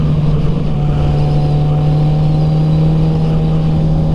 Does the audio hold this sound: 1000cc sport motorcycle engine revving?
yes